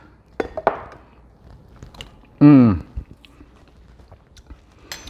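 Someone tastes chimichurri sauce up close with a few soft bites and chewing clicks, broken by a short voiced murmur and faint kitchen clatter.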